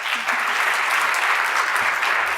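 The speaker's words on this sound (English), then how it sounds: "Can we give them one more round of applause?" Sustained audience applause fills the room at an event about Success Academy charter schools in New York City, dense and steady throughout with no talk.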